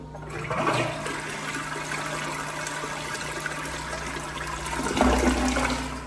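Close, loud rush of water from a flushing toilet runs continuously, with a renewed gushing swell near the finish and no speech.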